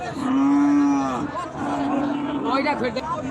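A cow at a busy cattle market lets out a loud, drawn-out moo up close, followed by shorter lowing sounds, with crowd chatter and people talking in the background.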